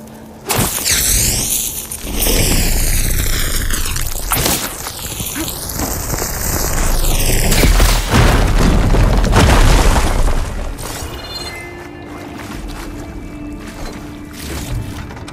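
A video game explosion blasts apart an obstacle: loud booming bursts and rumbling with sweeping electronic tones, gradually fading into a quieter hum. No speech.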